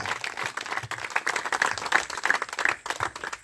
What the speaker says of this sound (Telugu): గట్టిగా మనందరూ చప్పట్లు కొట్టాయని ఆహ్వానిద్దాం